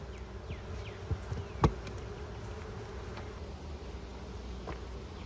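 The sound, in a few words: honey bees buzzing around a beehive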